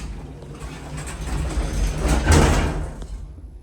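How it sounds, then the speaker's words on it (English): The door of a 1962 Westbrook traction elevator at a museum slides along with a rumbling roll, ending in a loud close about two seconds in, then the noise quickly dies away. "The door slams loud."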